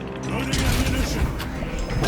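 Mechanical clicks and metallic clacks of a bolt sniper rifle being reloaded in Space Marine 2, a short run of ratcheting, gear-like clatter over steady game ambience.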